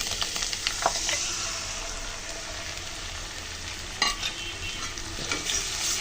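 Onion, garlic and a wet spice paste fry and get stirred in hot oil for a tilapia curry: a steady close sizzle with scraping spoon strokes, sharper clatters near the middle and end, and no talk.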